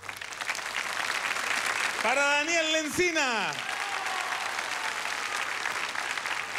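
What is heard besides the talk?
studio audience applause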